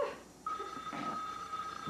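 A telephone rings indoors with a single steady electronic tone starting after a brief pause, moderately loud and continuing to the end, with faint room noise and no talk.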